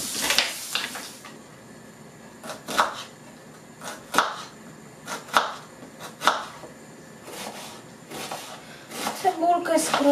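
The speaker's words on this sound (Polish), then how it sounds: "Cebulkę skroimy w drobną kosteczkę" An onion is diced finely with a knife on a board for a cabbage-roll dish, giving steady, crisp chops about once a second, close and clear, with faint voices in the background.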